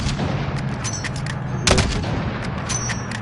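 Gunfire in a video game's combat zone, aimed at a pick-up truck, with one sharp, loud shot standing out over a steady drone of battle noise and rumble.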